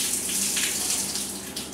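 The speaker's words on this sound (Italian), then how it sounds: "io qua faccio uscire l'acqua" Water gushes steadily from a pipe on an AEG 50750 dishwasher under repair, a continuous close hiss of running flow with no voices.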